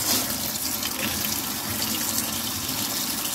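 Water runs steadily from the tap of an outdoor sink in a continuous close gush, mixing warm water for a plant-based yarn dye, with no talking over it.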